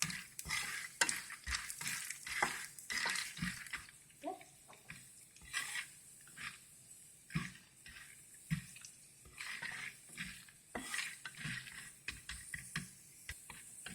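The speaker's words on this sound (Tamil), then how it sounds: "எடுத்து வச்சிருக்க மசாலாலாம் ஆட் பண்ணிக்கிறேன். அதையும் கிளறி விட்டுக்கணும்." Masala being stirred into popcorn in a hot pan, with a steady sizzle under repeated scraping, clattering stirs at close range and no talking.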